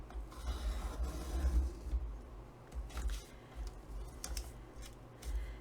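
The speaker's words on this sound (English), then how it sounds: "I'm going to put this in my trimmer" A paper trimmer cuts around a book-page tag with a few faint, close slicing and rubbing strokes against a quiet low hum. No one speaks.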